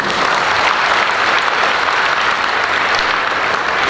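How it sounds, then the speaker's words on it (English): Steady, dense applause from a reunion crowd honouring the organizing committee at a class of the 80s and 90s gathering, loud and continuous throughout with no speech over it. "you'll definitely deserve a round of applause for this function"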